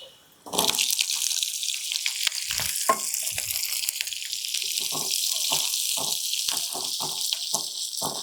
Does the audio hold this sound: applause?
no